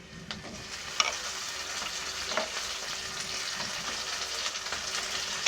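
Onion pieces frying in a pan until lightly browned make a steady, close sizzle with a few soft stirring knocks and no talk.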